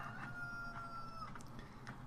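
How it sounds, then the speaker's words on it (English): A rooster crows in the farm video game Farm Simulator, a drawn-out in-game call repeating a few times over steady background game noise, with no talk over it. "I hate that rooster."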